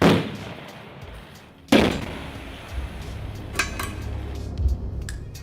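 Two heavy, booming landmine blasts in a minefield, the second louder, followed by scattered crackling pops and rumbling of fire in the background.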